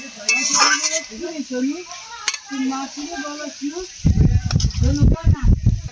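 Cooked okra and prawn curry is tipped out of a metal pan with clanks and scraping of utensil against pan, growing louder toward the end, while a voice is heard earlier.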